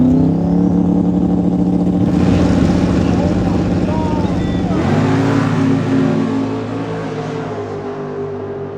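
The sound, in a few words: drag race cars with huge 9-liter engine accelerating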